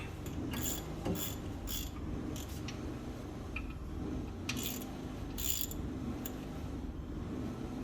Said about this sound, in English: Now we're going to install the bottom bolt.